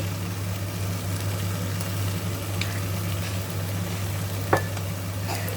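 Kale and egg, seasoned with oyster sauce, are stir-fried in a pan. A gentle, continuous sizzle runs over a steady low hum, broken by a few faint clinks of the spatula.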